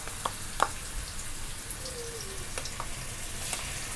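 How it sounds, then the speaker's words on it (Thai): Minced garlic sizzling in oil in a hot wok for a Thai fried mullet dish, a steady crackling fry with scattered sharp pops close by, no voices. "คุณตั๊กขอเจียวกระเทียมก่อนที่จะทอดปลานะคะ"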